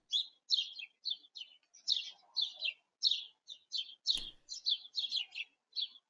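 Small songbirds chirp steadily around a neighbor's backyard feeder at dawn, a rapid run of bright, close tweets with one sharp thud partway through.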